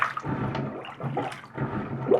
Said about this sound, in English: I'm going to keep plunging until I don't have any water left